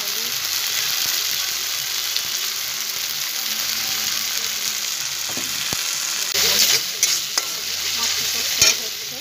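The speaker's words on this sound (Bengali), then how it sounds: "মশলাটা ফ্রাই হচ্ছে।" Spice masala with turmeric frying in mutton fat in a pan, a continuous sizzle and hiss with a few sharper stirring scrapes near the end.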